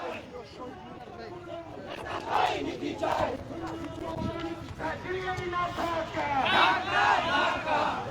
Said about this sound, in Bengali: দিল্লি না ঢাকা, ঢাকা ঢাকা স্লোগানে উত্তাল কেন্দ্রীয় শহীদ মিনারের সামনে সড়ক